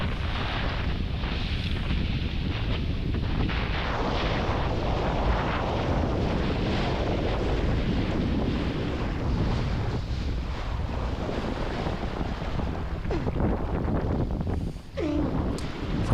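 Strong wind at Jupiter Beach, Florida, during kitesurfing, buffeting the microphone in a continuous loud roar with surf and waves beneath, no one speaking.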